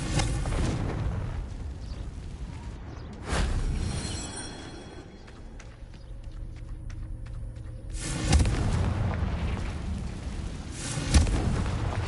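Blasts of the Confringo explosive spell in the Hogwarts Legacy video game, two heavy booming bursts several seconds apart with a rumbling tail, and quieter game ambience between them.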